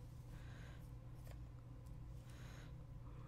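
Scissors cutting beading wire, with a few short quiet snips spread apart against a faint low background hum and no talking.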